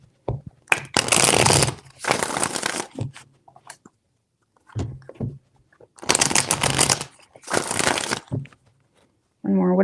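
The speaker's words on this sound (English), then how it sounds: "3 shuffles." A deck of tarot cards is shuffled in several crisp riffling bursts separated by short pauses, close and loud. Brief speech is heard between the shuffles.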